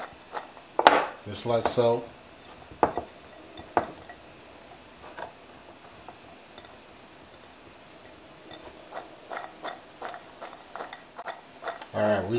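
Food tossed around in a pan while making a beef chorizo breakfast burrito, with scattered metallic clinks and scrapes spread across the stretch and a few quiet spoken words mixed in.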